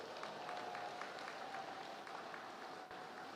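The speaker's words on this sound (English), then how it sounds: "I want to now give those beautiful children of ours a lusty round of applause" Outdoor crowd applause for child performers at an African Emancipation Day festival. It is a dense, steady, distant-sounding wash of clapping mixed with crowd noise and a faint tonal hum, and stays even throughout.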